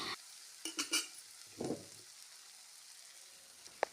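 A sprouted gram curry, North Karnataka style, fries in a pan over a faint sizzle, broken by a few scraping stirs in quick succession, one slower swish, then a light clink of metal at the close, no voices.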